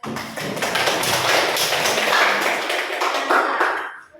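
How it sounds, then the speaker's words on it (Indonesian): Classroom applause from a group of students, a dense, steady patter of claps that holds for about four seconds and then stops. "Boleh tepuk tangan dulu."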